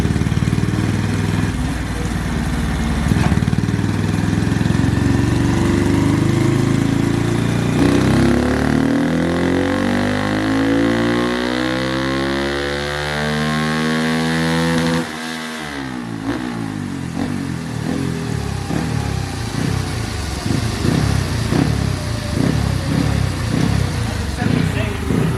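A high-mileage Honda Grom engine runs on a dynamometer, loud and close, its note climbing steadily through a long sweeping rev, dropping briefly, then rising again with a rattly, buzzing tone throughout.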